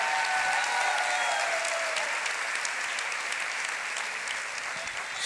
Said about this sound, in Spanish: Si ustedes gritaron y aplaudieron por esto